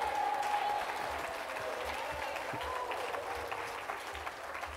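A church congregation applauding during a sermon, dense sustained clapping from a crowd that fills the whole stretch at steady loudness.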